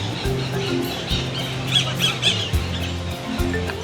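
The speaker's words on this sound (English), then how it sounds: "A group of noisy green fellas has a traditional meeting point in these trees, Pacific parakeets." Pacific parakeets gathering in trees at an afternoon meeting point in town, a flock squawking and screeching continuously, loud and overlapping, with steady low urban background hum.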